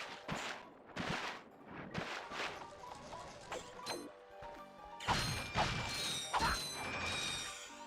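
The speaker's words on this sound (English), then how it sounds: "I think collecting bolts in this game is really satisfying. Like, it feels really weighty." Bolts being collected in Ratchet & Clank on Tobruk Crater, Planet Novalis: bursts of metallic clinking and rattling pickups mixed with crate-smashing crashes, close and busy, with a louder cluster of bright jingles near the end.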